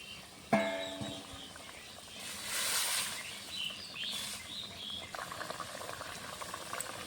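Water heats in a pot for a fish curry with poppy seed paste, bubbling and simmering steadily at low level, with a sharp knock early on and a few brief louder hissing swells.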